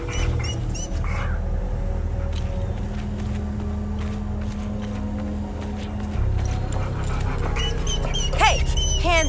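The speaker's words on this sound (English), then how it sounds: "I found the poor pup whimpering alone in a house" In the video game Hell is Us, an abandoned pup whimpers inside a house, with thin, high whines rising near the end over a loud, steady low drone.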